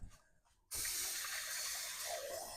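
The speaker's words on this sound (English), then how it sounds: "I'm going to add a quart of water now." A quart of water pouring into a soup pot of potato peel soup and broth, starting suddenly after a quiet moment and continuing as a steady, close splashing gush.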